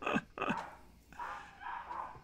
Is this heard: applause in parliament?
no